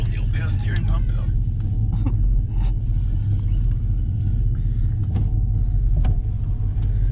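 A Holden Commodore on a test drive, with a leaking power steering pump: steady low engine and road rumble throughout, close and fairly loud, with someone talking over it.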